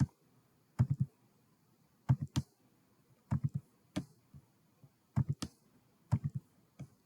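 A computer mouse clicks to open browser tabs, sharp clicks in small clusters of two or three separated by quiet pauses, close and clear with no talking.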